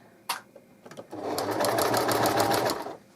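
A sewing machine stitching a double-sided baby blanket hums in a steady close run for about two seconds, preceded by a few soft handling clicks.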